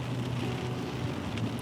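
Steady rain patters on a vehicle during a slow downhill drive through dense fog in Hogsback, forming a loud, continuous wash with no voices.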